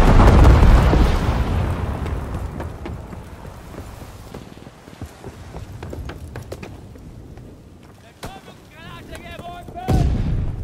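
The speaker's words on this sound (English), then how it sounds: "Enemy bomber approaching. Incendiary bombs incoming." Incendiary bombs from an enemy bomber explode in a Call of Duty: WWII match on the USS Texas map, opening with a heavy booming blast that rolls into rumble, followed by scattered gunfire and another burst near the end.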